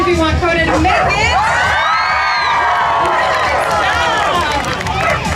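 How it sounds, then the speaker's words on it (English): An audience at a dog performance show roars as the high-jump bar is raised to 48 inches, with loud whoops, yells and children's shouts swelling into sustained cheering across the whole stretch. "You're going to have to cheer twice as loud"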